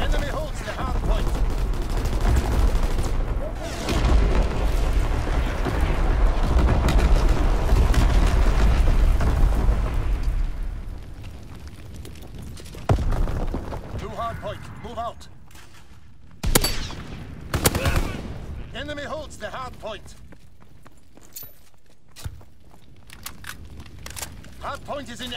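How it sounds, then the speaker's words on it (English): Incoming enemy artillery in a WW2 hardpoint video game: a dense rolling barrage of gunfire and explosions for about ten seconds, then scattered loud blasts and bursts as the fire thins, with game voices calling out over it. "Incoming enemy artillery."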